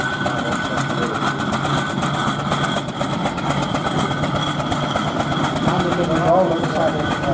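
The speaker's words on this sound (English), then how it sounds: "they didn't like this noisy, smelling steam engine" A steam traction engine runs steadily nearby at an outdoor vintage show in Gloucestershire, with a rhythmic mechanical chugging and hiss, its churning drone continuous and fairly loud.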